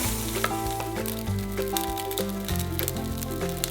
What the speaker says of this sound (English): Stir fry this, all you need is to have these anchovies turn slightly golden brown